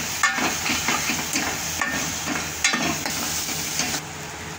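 Tomato puree sautéing with spices in a pan, a steady close sizzle with repeated scraping and tapping of a spatula against the metal, no speech.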